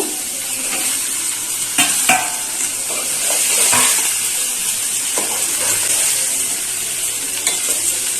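Rui fish going into a sizzling spice paste in a pan, a loud close fry with bursts of spattering and scraping stirs against the metal over a constant hiss.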